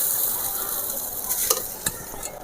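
Rice being stirred into frying egg in a pan while cooking drumstick-leaf fried rice, a steady soft sizzle with a few light scrapes of the spoon against the pan, close and alone.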